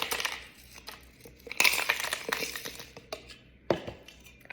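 Ice cubes for a gingerbread protein shake clatter and clink into a container in a few scattered, sharp knocks and rattles, close and fairly quiet.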